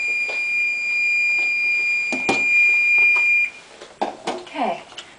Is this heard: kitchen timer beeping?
yes